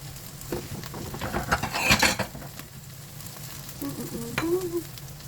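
Okra omelette (tortang okra) frying in a pan, a steady sizzle with scattered clinks and scraping from turning or moving it, brief louder bursts near the middle, no talking.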